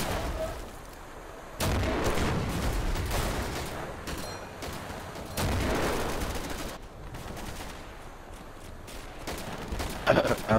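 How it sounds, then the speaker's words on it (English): Artillery fire in the Darkest Hour game, set at the Battle of the Bulge: close, heavy booming blasts land a few seconds apart, with scattered smaller gunfire and rumbling battlefield noise in between. "This artillery is very close."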